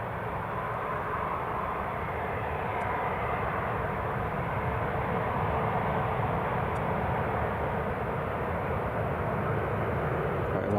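TUI airliner on its takeoff roll at Newcastle International Airport in fog: a steady, loud, broadband jet engine roar that holds constant throughout with no talk over it.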